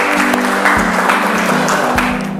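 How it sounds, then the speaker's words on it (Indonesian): Classroom of high school students clapping loudly for a classmate, a dense burst of applause with a few sharper individual claps that fades slightly at the end. "Baik, bagus sekali jawaban dari Asti, berikan tepuk tangan."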